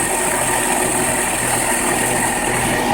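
A 1953 Farmall Super H tractor engine with a rebuilt carburetor and fresh tune-up runs steadily nearby, a loud, continuous mechanical drone with no breaks.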